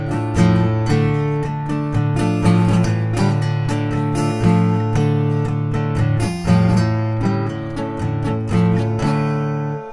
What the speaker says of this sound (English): But in standard tuning, on the acoustic guitar, it sounds like this.